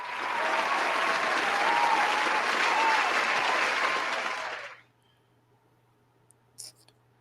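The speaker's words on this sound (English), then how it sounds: "Round of applause." Round of applause from a crowd, dense steady clapping for nearly five seconds that cuts off sharply into near silence, followed by a couple of faint clicks.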